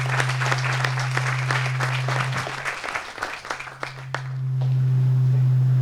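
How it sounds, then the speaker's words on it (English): An audience applauds at an apartment building's grand opening, a few seconds of dense clapping that thins out and fades, leaving a steady electrical hum from the sound system. "So I think they deserve a nice round of applause."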